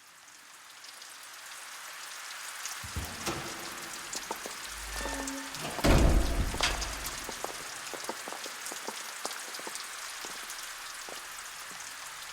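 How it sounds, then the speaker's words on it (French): Rain falls steadily in an anime episode, a constant dense hiss of drops that grows heavier and louder for a moment partway through before settling back to an even patter. "Il pleut?"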